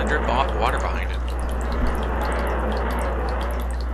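Water dripping off a defeated boss in the Water Temple of Ocarina of Time, game sound with scattered drips and trickling over a steady low hum, heard under a voice talking.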